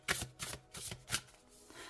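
Tarot cards are shuffled and drawn in a quiet room, a few quick papery riffles and flicks in short bursts, close and soft.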